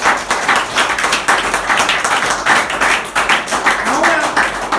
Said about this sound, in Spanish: Ese aplauso sea para el Señor.